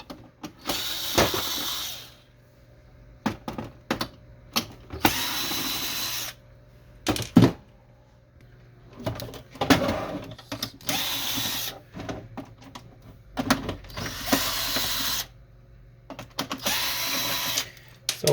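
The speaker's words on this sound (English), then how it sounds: "to get into the scanner, we'll just need to remove the screws on the bottom" Screws are backed out of the bottom of an HP Officejet Pro 6830 scanner unit with a powered driver, giving repeated short whirring bursts, clicks and ratcheting, close and intermittent with pauses between screws.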